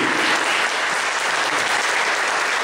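Dense, continuous applause from a large crowd at a Catholic church sermon, loud and steady throughout with no pauses.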